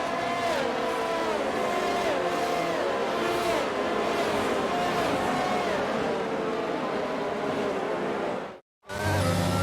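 Formula One cars from the F1 22 video game run a formation lap, engines droning and revving in steady, wavering tones throughout, briefly cut to silence near the end before the sound resumes.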